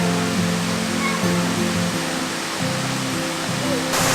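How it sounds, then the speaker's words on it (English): Small waterfalls along a hiking trail to Kondalilla Falls give a steady, loud rushing roar of falling water, continuous and close, with some faint voice-like tones mixed in. "There's beautiful little waterfalls along the way."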